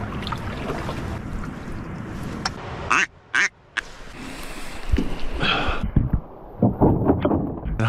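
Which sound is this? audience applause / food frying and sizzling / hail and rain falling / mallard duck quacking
mallard duck quacking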